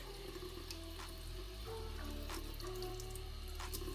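Tap water runs steadily from a faucet into a sink while a makeup brush is rinsed under the stream, a continuous close splashing hiss with no talking.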